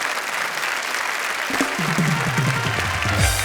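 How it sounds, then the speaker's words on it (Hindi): An audience at a Hindi comedy poetry show gives a burst of applause for two poets, a steady wash of clapping that runs loud throughout, with a low voice briefly heard under it in the second half. "जोरदार तालियां इनके लिए।"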